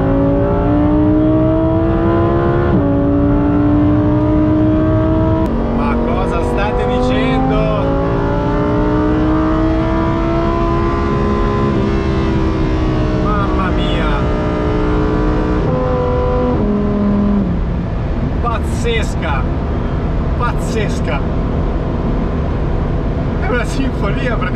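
Naturally aspirated V10 of a Lamborghini Huracan STO revving and pulling hard from inside the car, loud sustained engine tone rising and falling through gears for the whole stretch, with some talk underneath.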